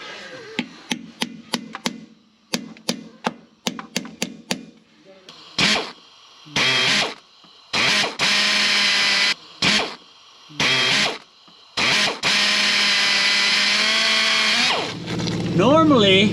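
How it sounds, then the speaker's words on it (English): A power drill bores into a Ford Raptor's 6R80 transmission pan, starting with a string of quick sharp taps and clicks, then long loud whining bursts of drilling that stop and restart, ending in a rising high-pitched squeal. "We're gonna go drill a hole in the pan of our transmission."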